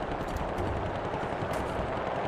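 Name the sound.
machine gun strafing fire in the video game War Thunder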